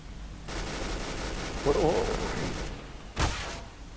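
Gunfire in Counter-Strike: Global Offensive, a sustained burst of shots lasting a couple of seconds, then a short loud report, heard over game ambience.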